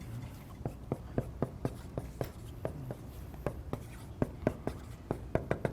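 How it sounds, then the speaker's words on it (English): A marker or pen writing out a number sequence, a string of distinct close taps and short strokes in an uneven rhythm, with faint speech underneath. "So I'm gonna write out a sequence here for you."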